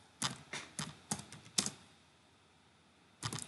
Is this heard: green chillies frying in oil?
no